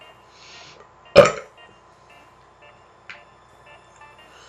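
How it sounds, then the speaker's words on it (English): A single loud, close burp erupts briefly, then fades, with only a faint tonal hum and a soft click in an otherwise quiet background. "I feel a burp coming on"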